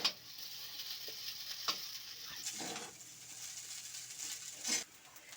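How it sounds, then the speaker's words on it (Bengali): Chow mein and vegetables sizzle while being stirred in a hot kadai, with a steady frying hiss and occasional scraping clatters from the spatula. "কড়াইতে চাউমিনটা দেওয়ার পর এবার একটু এগুলোকে নাড়িয়ে নেবো, সব সবজি মশলা যাতে ভালো করে মিশে যায়।"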